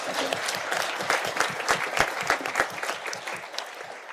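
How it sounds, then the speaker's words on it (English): Applause from the audience at a public lecture on leadership engagement, dense crowd clapping with distinct individual claps standing out, fairly close and loud throughout the short span. "Clapping."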